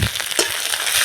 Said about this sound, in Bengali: আদাটা আমি একটু ভেজে নেব।